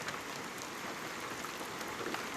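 Heavy rain in Güzelyurt, Cyprus, a steady, even hiss of falling drops with no voices, fairly faint and continuous throughout.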